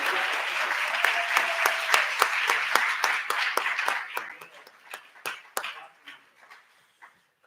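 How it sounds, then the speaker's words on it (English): An audience at a Board of Education meeting applauds retirees and valedictorians, a dense round of clapping with a few distinct claps standing out, which thins out and fades to scattered claps by the end. "So how about a nice round of applause for our retirees and our valedictorians."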